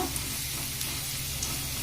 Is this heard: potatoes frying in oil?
yes